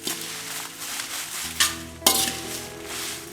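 Dried chillies roast in a pan for Jaffna chilli powder, giving a soft dry sizzle with stirring scrapes and two sharp metallic clinks of a utensil against the pan, all close by and moderately quiet.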